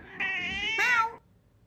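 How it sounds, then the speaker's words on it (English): A cat meows once, a drawn-out, clear call that rises in pitch near the end, close by and alone in a quiet room. "A meow."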